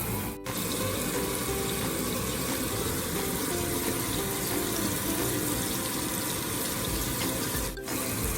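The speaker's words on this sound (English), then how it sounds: "So next, batter the fish piece by piece and put in the pan." Battered fish pieces fry in hot oil in a pan, a steady, dense sizzle running the whole time, with a brief click near the start and another near the end.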